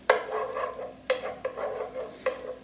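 Chopped onion is stirred in a hot pan with a utensil, giving a few distinct scraping clatters over a soft, steady sizzle, close and clear with nobody speaking.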